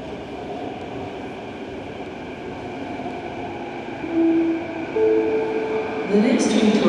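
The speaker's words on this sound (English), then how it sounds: "The next train to arrive on the inbound platform is for Waterfront." SkyTrain metro train arriving at a Vancouver station platform: a steady rumble of rail noise that grows louder toward the end, with tonal whines and a brief squeal as the train approaches, moderately loud.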